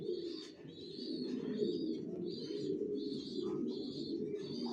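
Racing pigeons in a loft coo steadily in a low, continuous murmur, with higher chirps and calls repeating faintly above the flock.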